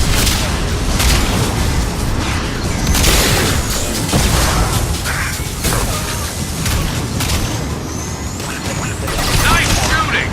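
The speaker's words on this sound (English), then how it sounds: "Firing a high-impact shot." A heavy weapon's high-impact shot in Mass Effect 2 booms amid a dense, loud wash of battle noise and explosions, with voices speaking over the din.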